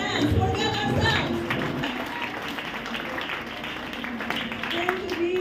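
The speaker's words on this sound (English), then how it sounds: "Everybody will clap your hands" A church congregation clapping hands together, dense and continuous, mixed with shouts, voices and music throughout.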